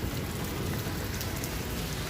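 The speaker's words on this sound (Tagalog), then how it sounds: "Ice na pala yung" Hail pounding on a house roof in a dense, continuous roar of hard hits, loud and steady with no talking.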